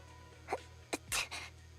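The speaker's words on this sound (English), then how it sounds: "Cute sneeze." A cute, short sneeze from a female character in the video game Zenless Zone Zero, heard as a couple of small breathy bursts followed by a louder sneeze and a soft after-sound, close and alone over a low game hum.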